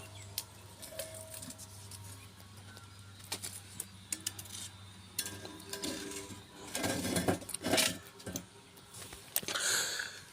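Mudavattukkal herbal oil simmering slowly in a pot, with faint, sparse ticks and soft pops and a denser burst of crackling bubbles partway through, with no one talking.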